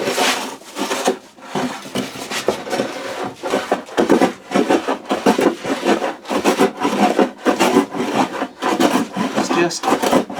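A hand plane shaving across the grain of a wooden workbench top being re-flattened, with repeated rhythmic rasping strokes, loud and close, one after another.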